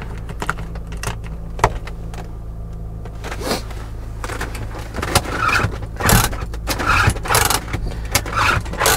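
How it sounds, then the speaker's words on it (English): Cheap, noisy handbrake of a VW Beetle convertible, heard as a string of sharp ratcheting clicks and clunks close by, growing busier toward the end over a steady low hum inside the car. "The cheapest, noisiest handbrake ever."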